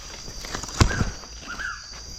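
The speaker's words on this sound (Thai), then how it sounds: "เสียงนกครับ" Two short chirping bird calls in a quiet forest, with faint rustling and a soft thump between them.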